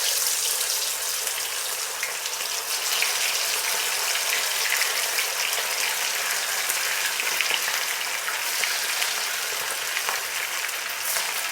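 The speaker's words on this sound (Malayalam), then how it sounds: "തേങ്ങയൊക്കെ വറുത്തെടുത്ത എണ്ണയിലേക്ക് തന്നെ നമുക്ക് ചിക്കൻ ഇട്ട് പൊരിച്ചെടുക്കാം" Marinated chicken frying in hot oil that was first used to roast coconut, a dense, even sizzle and crackle, close and continuous with no voices.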